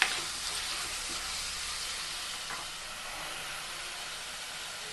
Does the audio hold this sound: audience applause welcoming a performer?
no